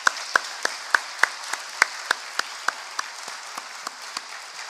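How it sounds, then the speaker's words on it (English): Sparse, evenly spaced hand claps from a small part of the audience at the 37th IMLI graduation ceremony, single sharp claps ringing out one after another over light room noise without any talking. "So they do deserve a round of applause."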